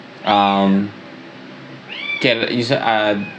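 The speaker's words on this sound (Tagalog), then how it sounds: "may umiyak na kuting" A Siamese cat's newborn kitten cries out twice, a long clear meow followed by a rising, wavering one, close and loud indoors.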